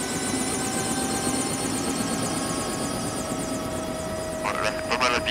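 A helicopter flies over an estuary in the Poitou-Charentes region, its rotor and turbine making a steady loud drone with a whining tone, and a voice cuts in near the end.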